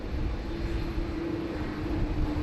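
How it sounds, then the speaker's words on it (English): Air Canada airliner near the start of its taxi at Sydney Airport, bound for Vancouver, giving off a steady broadband jet engine rumble with a sustained mid tone, moderately loud and distant, with no talk over it. "Air Canada 34 there, just almost ready to taxi"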